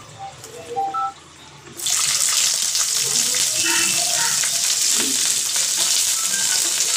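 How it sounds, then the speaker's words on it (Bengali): Diced potatoes go into hot oil for a Bengali potato pulao, and a loud, steady sizzle bursts in after a quieter moment of faint kitchen clatter, then holds close and constant to the end. "আলুটা আমি তেলে দিয়ে দিলাম"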